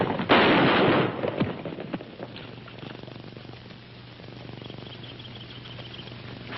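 A burst of gunfire in a 1951 western erupts in a loud, dense volley of shots, then falls away to a faint noisy murmur of scattered crackles.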